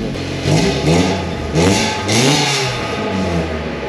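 A Mazda Miata NB fitted with an NA exhaust and no muffler revs loudly and raspily, rising and falling in about four quick blips over a steady idle.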